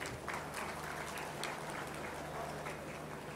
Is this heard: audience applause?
yes